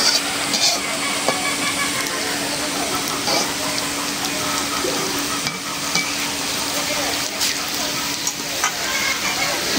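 Bora fritters fry in a pan over a lowered flame, giving a steady, close sizzle that runs unbroken throughout, with occasional scraping and stirring on top.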